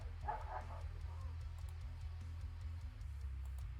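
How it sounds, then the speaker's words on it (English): A pet dog barks a few short yips near the start, faint and somewhat distant, over a steady low hum from a home streaming setup, then quiets. "Apologies for my dog here for a second."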